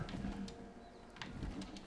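A terror bird in ARK Survival Ascended gives a low, cooing, pigeon-like call, faint and brief, with soft game ambience around it.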